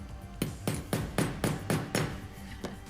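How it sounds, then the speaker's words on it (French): Hammer blows striking a Prince Rupert's drop of glass: eight sharp, evenly spaced metallic taps about every quarter second, close and loud, with no voices. "Si je prends le marteau,"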